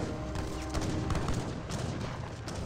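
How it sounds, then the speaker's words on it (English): Skirmishers fire muskets in an Age of Empires 3 battle, a dense crackle of overlapping gunshots mixed with battle noise, continuous and moderately loud, with no voices. "Skirmishers firing away."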